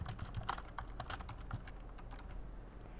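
Rapid, irregular keystrokes on a computer keyboard while entering menu options for a C++ program, moderately close and steady over a low background hum, with no talking.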